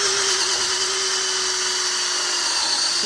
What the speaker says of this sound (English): when I get the buffer on it, it's going to judder like mad